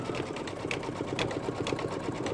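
An embroidery machine stitches a turkey design on an in-the-hoop bottle apron with a fast, even mechanical chatter of needle strokes, continuous and close.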